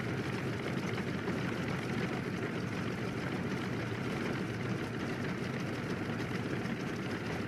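Continuous, steady rumble of a Grumman F6F Hellcat's radial engine running in a flight simulator, even and unbroken throughout at moderate level with no voices.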